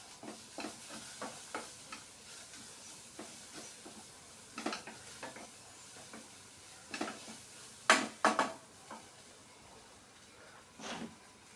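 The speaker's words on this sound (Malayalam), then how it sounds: "ഇട്ട് കൊടുത്തിട്ട് നമുക്കതൊന്ന് ഇളക്കാം." Ground spice paste is stirred into a cooking pan with a spoon, giving quiet, irregular scraping strokes with a faint sizzle beneath, heard close up in a calm kitchen.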